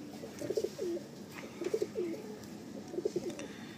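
A purebred Madrasi pigeon coos in three evenly spaced bouts, each a soft, rolling burst of throaty notes. The bird is close and no voices are heard, with a light steady background hiss.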